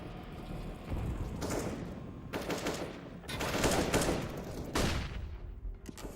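Bursts of AK rifle fire in Counter-Strike: Global Offensive, several rapid volleys of automatic shots separated by short pauses, moderately loud with no talking.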